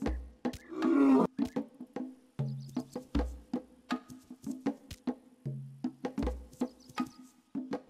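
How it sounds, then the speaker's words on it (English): A wildebeest attacking a lion in a Roblox animal game, with a short roar near the start followed by a run of repeated thudding impact hits at an uneven rhythm, fairly close and alone. "This demonstration will show the wildebeest hitting a lion"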